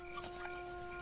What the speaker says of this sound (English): Oh god, chickens.